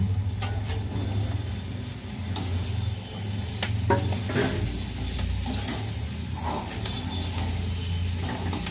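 Okra tossed into a hot pan and stir-fried, a steady close sizzle broken by spatula scrapes and a few sharp knocks against the metal.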